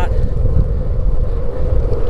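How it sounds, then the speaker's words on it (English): Strong wind from the side buffets the microphone on a bike ride beside cool water, with a loud, continuous low roar and rumble throughout. "The wind is very strong from my right side."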